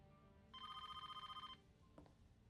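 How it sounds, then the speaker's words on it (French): A telephone rings again, one trilling electronic burst lasting about a second, heard at moderate distance in a quiet room, then a faint click. "dès qu'on raccroche, aussitôt le téléphone se met à sonner de nouveau"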